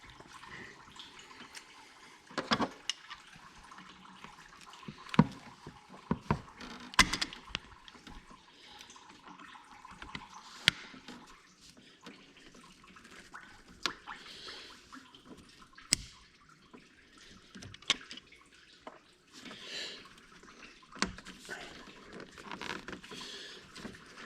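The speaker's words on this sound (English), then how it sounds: "Got some more antifreeze draining now" Antifreeze draining from a Ford Boss 302, a quiet trickle and patter of liquid with scattered sharp drips and splashes, faint and close, with no talking.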